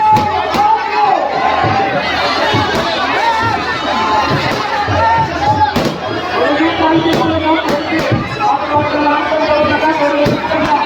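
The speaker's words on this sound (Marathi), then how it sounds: "भाविक भक्तांची गर्दी झाली आहे" A dense crowd of devotees at a village goddess palanquin procession murmurs and chatters all around, with loud overlapping voices and occasional sharp firecracker bangs cutting through the din.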